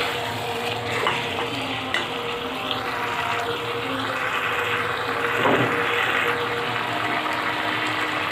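Meat with spices sizzles steadily in a hot pan while being stirred, a continuous close frying hiss with occasional scraping, no talking.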